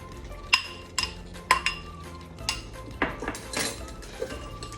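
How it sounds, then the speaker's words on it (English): Onions added to a hot pan for Southern-style smothered pork chops and stirred, with sharp metallic clinks of a utensil against the pan and a faint sizzle between the strikes, close up and with no talking. "we're gonna go ahead and add some of our onions in."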